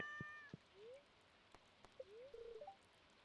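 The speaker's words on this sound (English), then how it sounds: "Cat on bed." A cat meows in the farming video game Stardew Valley on a rainy day: several short, faint, rising meows, the first pair brief and the later ones longer, with light ambient rain and soft clicks between them.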